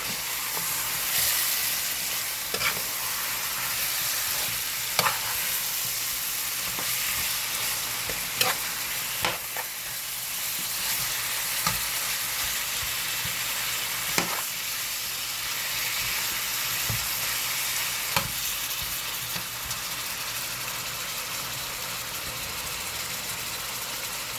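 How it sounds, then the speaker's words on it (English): Curry chicken sizzles loudly in a pot with a continuous steady frying hiss, while occasional knocks and scrapes of a spoon stirring it come through up close. "I'm gonna stir it up a little bit."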